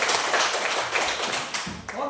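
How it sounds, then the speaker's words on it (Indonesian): Students in a classroom clap for a classmate, a brief close burst of many hands clapping together, with a faint voice near the end. "Boleh berikan tepuk tangan."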